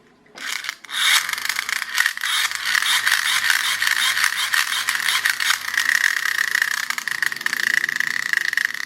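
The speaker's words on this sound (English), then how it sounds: "So I'll screw it back together and see if it works." A small screw being driven back into a plastic pull cord toy car, producing continuous close-up scraping and ratchety rubbing with a steady gritty texture, no talking.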